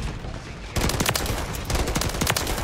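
Rapid gunfire crackles in a first-person shooter game, a burst of sharp, closely spaced shots starting abruptly and continuing loudly in quick irregular clusters, with no talk.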